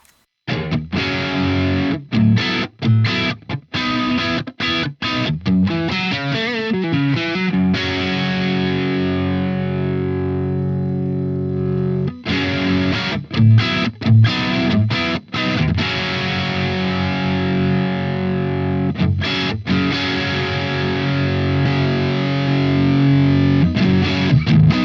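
A heavy distorted electric guitar tone through a Fender Tone Master Pro plays sustained, thick chords with a few sudden chopped stops and brief pauses, loud and alone.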